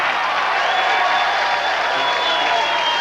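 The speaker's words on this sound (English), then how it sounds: "Urging the crowd to cheer him on." Spectators at a 2003 PBA US Open bowling championship cheer and applaud in a steady, dense roar of clapping and crowd voices that holds level throughout.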